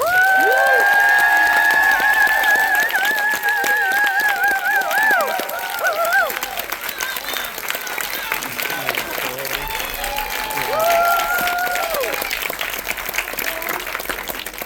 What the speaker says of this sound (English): Can we maybe just have one extra round of applause for Arm and Heger?